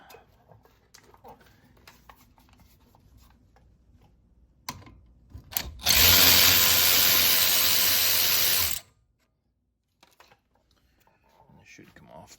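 A power tool zips off a 14 mm brake caliper bolt on a 2021 Kia Seltos S AWD during a brake job, one loud burst of about three seconds amid quieter clicks and handling noise.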